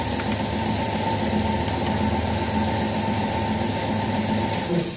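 A Yamaha All New NMAX scooter idles with a steady, close, even mechanical hum and a faint whine, holding constant with no talk.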